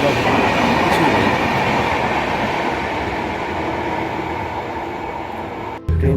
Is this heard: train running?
yes